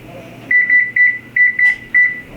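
Kitchen oven control panel beeping as the timer is set, a run of six short, clear electronic beeps at a fairly even pace, loud and close, with no talk over them.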